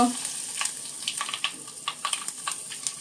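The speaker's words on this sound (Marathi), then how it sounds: "आता भाजीला फोडणी देऊया" Mustard seeds and asafoetida sizzle steadily in hot peanut oil with a high hiss, broken by a series of quick crackles and pops, close up and with no talking.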